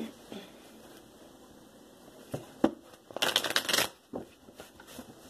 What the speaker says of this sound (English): I'm going to give a quick few shuffles here